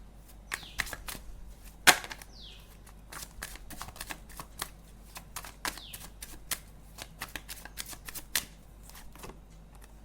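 Tarot cards being shuffled by hand: a steady run of crisp, close riffling snaps and flicks, with one sharper slap partway through and no talking.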